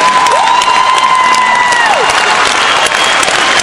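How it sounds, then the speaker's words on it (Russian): Audience applause at a live ice show in Saint Petersburg, a dense steady wash of clapping from a large crowd, loud and continuous, with a sung or whistled tone gliding over the top early on. "И уже по вашим аплодисментам понятно"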